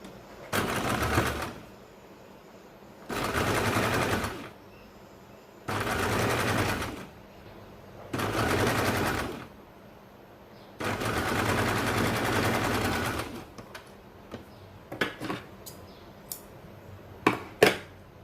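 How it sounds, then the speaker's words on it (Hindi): A sewing machine stitches the edge of a baby frock in five sustained bursts of whirring, separated by short pauses, followed by a few sharp clicks and handling knocks at close range. "यहाँ पे आपको हल्की सी किनारे पे सिलाई लगानी है"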